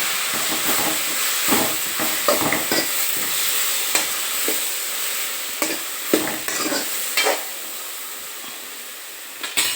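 Two or three chopped tomatoes sizzle and fry in a pan of fenugreek rice base, a steady close hiss broken by repeated stirring scrapes and bursts of spatter, with no talk.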